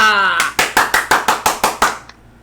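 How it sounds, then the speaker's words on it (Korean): A voice finishes, then about eight evenly spaced, crisp hand claps follow in a steady rhythm to welcome a lecturer at a talk, stopping abruptly. "뜨거운 박수로 모시도록 하겠습니다."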